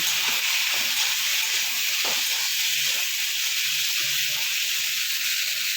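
Yardlong beans fry with salt and turmeric in a pan, giving a steady, close, dense hiss that holds evenly from start to finish, with a faint soft knock partway through and no voices.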